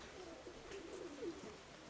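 Soft, low cooing of pigeons, faint and somewhat distant, a few muffled calls over a quiet background hum.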